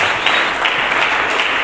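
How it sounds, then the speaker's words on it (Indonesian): A church congregation at a GBI Harmoni service applauds steadily and loudly throughout, a dense uninterrupted wash of clapping with no voices standing out. "Mari kita berikan tepuk tangan."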